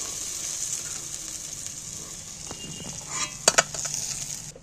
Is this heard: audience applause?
no